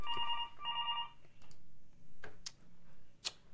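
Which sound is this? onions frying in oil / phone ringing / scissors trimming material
phone ringing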